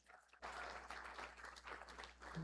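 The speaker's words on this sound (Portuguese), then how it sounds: "aí uma salva de palmas" Applause breaks out in a church congregation, a sudden dense wash of many hands clapping that starts abruptly and holds steady at a moderate, slightly distant level.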